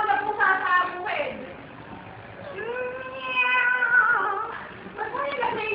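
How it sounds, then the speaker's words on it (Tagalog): A stray cat on a farm meows several times in drawn-out, wavering cries, close and fairly loud, with brief gaps between calls and no clear talk over it. "May naligaw na pusa sa bukid."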